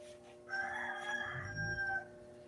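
A rooster crows once at moderate distance, a drawn-out call lasting about a second and a half over a quiet outdoor background.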